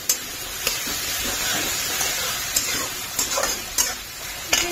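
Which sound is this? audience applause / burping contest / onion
onion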